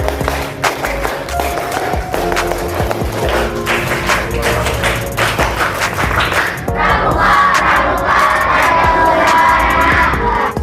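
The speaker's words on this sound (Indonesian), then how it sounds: "3 kali tepuk pramuka" A classroom of students in scout uniforms perform the rhythmic scout clap together, sharp hand claps in patterned bursts mixed with shouted crowd chanting, loud and close throughout.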